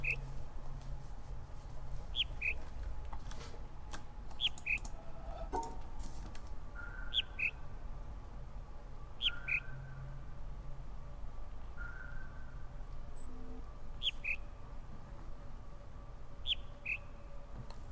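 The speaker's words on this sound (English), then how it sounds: "It's the bird noise." Bird chirps ring out in The Witness, short bright double tweets repeating every two seconds or so over a quiet outdoor ambience, alone without speech.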